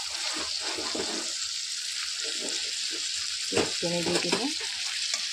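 Meat and onions fry and get stirred in a pot. A steady sizzle runs throughout, with a few stirring clatters and faint, brief murmurs of voice underneath.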